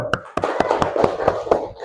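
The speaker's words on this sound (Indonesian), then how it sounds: "yuk tepuk tangan dulu" A class of students claps along in a schoolroom lesson, with about seven sharp, evenly spaced claps in quick rhythm, fairly close, over faint background chatter.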